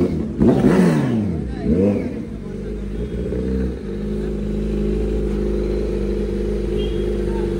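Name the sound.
Kawasaki Z900 motorcycle engine with Arrow full-system exhaust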